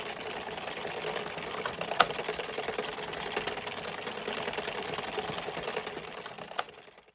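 A hand-cranked Addi or Sentro circular knitting machine working through rows of a Fair Isle beanie, giving a steady, continuous mechanical whirring clatter at close range with a couple of sharper clicks, no voices.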